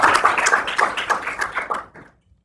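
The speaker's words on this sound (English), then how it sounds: "I think we'd like to give you a note of applause" Lecture audience applauding a guest at a distinguished interdisciplinary lecture, a burst of dense hand claps that swells briefly then tapers off and stops after about two seconds.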